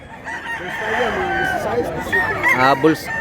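Big bullstag rooster at a farm crowing once, close and fairly loud, with people talking quietly behind it.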